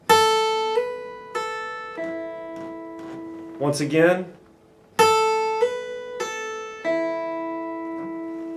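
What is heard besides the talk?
guitar notes with hammer-on and pull-offs played slowly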